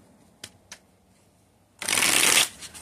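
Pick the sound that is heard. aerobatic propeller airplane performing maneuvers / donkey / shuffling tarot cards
shuffling tarot cards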